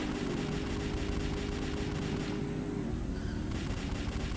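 Gunfire from a car-chase shootout in the video game Xshot, a steady dense rattle of shots over a continuous engine-like rumble, loud and unbroken throughout.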